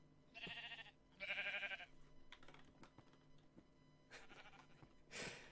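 Sheep bleating in the Minecraft video game: two distinct wavering bleats, then a third fainter one after scattered clicking of keyboard typing, all quiet and close.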